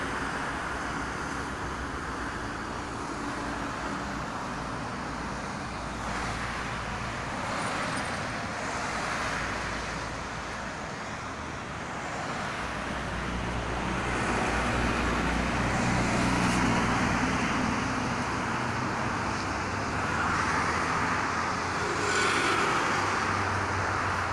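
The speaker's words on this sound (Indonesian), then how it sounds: "Ini didominasi oleh kendaraan pribadi ya pada pagi ini." Morning traffic of mostly private cars on the Jakarta–Cikampek toll road, flowing freely, makes a continuous roadside rumble and whoosh of passing vehicles that swells and fades over about twenty-four seconds, with some wind and no talking.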